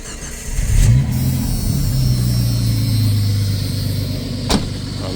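A Jeep XJ with a Renix engine and a suspected fuel problem cranks, catches and settles into a steady, fairly close idle, with a brief rev near the start and a sharp click toward the end.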